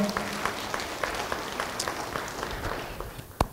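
A church congregation claps during a service, a steady, moderately quiet patter of many hands running throughout, with a single sharper clap or knock standing out near the end.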